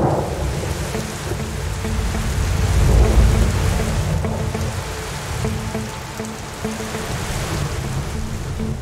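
Heavy rain drums steadily on a car during a drive near Lewo, Garut, with a deep rumble of thunder swelling and fading beneath it. No one speaks.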